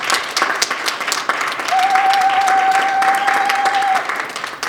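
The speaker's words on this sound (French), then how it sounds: "des applaudissements" Applause for the women at a Congolese community gathering in Montreal closing Women's Month: a crowd clapping steadily and fairly loudly throughout, with a sustained whistle-like tone running through the middle.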